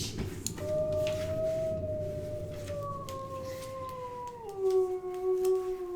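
A wolf howls in a video game, a long mournful tone gliding slowly downward and then dropping again, heard fairly close over faint background clicks, with no talking during it.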